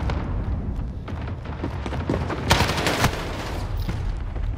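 Rapid gunfire in Call of Duty: Modern Warfare, dense bursts of shots with a couple of sharper loud cracks midway, steady and close throughout, with no talking.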